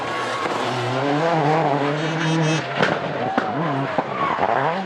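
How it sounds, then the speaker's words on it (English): A privateer Peugeot rally car on a 2003 Monte Carlo rally stage roars close by at high revs, its engine note rising and falling through gear changes, with a couple of sharp crackles or pops near the end. "having a blast driving a privateer Peugeot"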